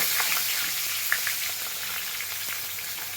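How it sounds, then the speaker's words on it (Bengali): Chopped onion frying in oil after whole spices, producing a continuous close sizzle with small pops and occasional stirring clicks, fairly quiet and steady throughout. "পেঁয়াজটা একটু ভেজে নিই, তারপরে মশলাটা দেব।"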